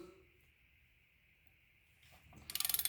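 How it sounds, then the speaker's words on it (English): A ratchet with a 21mm socket is worked on the tight unit bearing bolts of a Jeep JL, ending in a quick, close burst of rapid clicking after a quiet stretch. "21mm socket on here. Break these loose."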